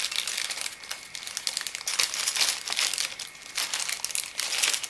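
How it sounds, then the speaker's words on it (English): Plastic bag crinkling and rustling close up, continuous and irregular as it is handled while unboxing a CPU cooler, with no voices. "plastic bag"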